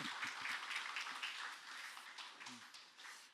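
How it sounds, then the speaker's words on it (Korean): A church congregation claps during a Sunday morning service, a faint, scattered patter of hands that thins out and fades toward the end. "우리 박수 할까요?"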